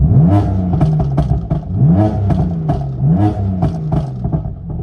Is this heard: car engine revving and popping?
yes